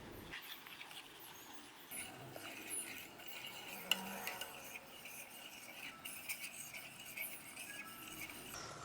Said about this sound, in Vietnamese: Mình cũng đổ từ từ, vừa cho vừa khuấy đều.